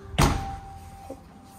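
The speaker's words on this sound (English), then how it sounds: "So I slammed the door." A door in a home for sale in Lake Havasu City slams shut with one sharp, loud close thud, followed by a faint knock and quiet room tone.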